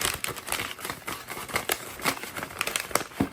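A folded paper recipe crinkles in short, irregular bursts of crackling and rustling, close and fairly quiet, with no talking.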